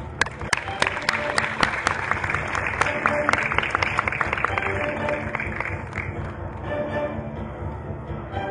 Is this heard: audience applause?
yes